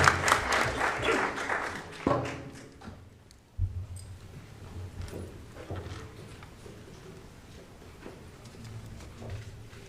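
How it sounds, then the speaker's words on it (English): Applause from the audience at a school board meeting rises briefly at the start, then trails off into scattered claps and faint room noise. "Nice round of applause and congratulate all of our support staff winners."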